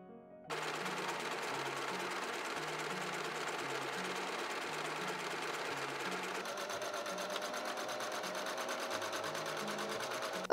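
A sewing machine stitches a vintage stage ghost costume, running continuously with a fast rhythmic whir and chatter, close and steady for the whole stretch.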